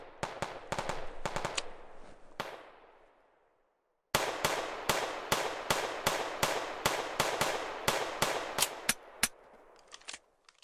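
Gunfire in the video game BattleBit Remastered, rapid sharp shots in two bursts separated by a brief quiet gap, loud and close with fast decaying tails.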